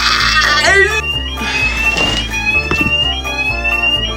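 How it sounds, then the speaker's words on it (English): A school fire alarm sounds under loud, layered talk and music-like tones, a sustained electronic alarm tone running through the whole stretch while voices overlap. "Different types of people when a fire alarm goes off at school."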